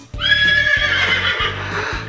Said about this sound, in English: Oh, horsey again.